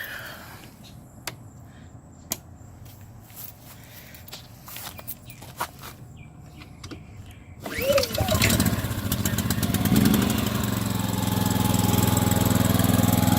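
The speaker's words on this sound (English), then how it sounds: "Let's crank it up real quick." A Honda EB2800i inverter generator is cranked and starts partway through, settling into a steady, moderately loud engine hum after a few seconds of footsteps and handling clicks.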